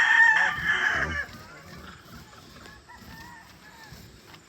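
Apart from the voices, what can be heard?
chickens and a rooster crowing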